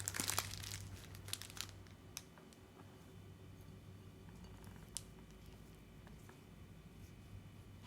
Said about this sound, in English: You put the paste in a small ziploc bag.